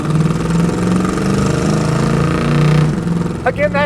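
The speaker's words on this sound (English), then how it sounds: "that exhaust makes it sound a little bit more tough than it is" A 1968 Chevrolet Chevelle convertible with a 283 V8 and automatic transmission rumbles steadily on the road, its low exhaust drone loud and close, fading slightly near the end as a voice begins speaking.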